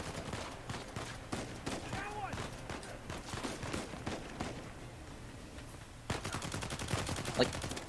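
Uncharted 4: A Thief's End gameplay with repeated bursts of gunfire, rapid volleys and scattered single shots, sounding under a voice, with a denser, faster stretch of automatic fire near the end.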